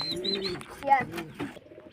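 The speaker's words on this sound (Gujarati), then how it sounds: "હજી પાંચ કબૂતર ઉડે અને ઉપર ચડી ગયા" Pigeons coo softly in short repeated phrases, close by, with a voice and other light background sounds mixed in.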